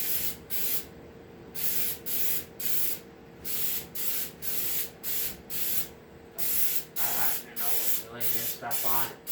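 Primer sprayed from a can onto a custom windshield for a Polaris RZR 900S UTV in a run of short, even hissing bursts with brief gaps between them, close and steady throughout.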